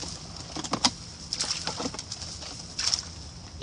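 Clapper rails released from boxes into a marsh give several short, scattered calls and rustles outdoors over steady background noise.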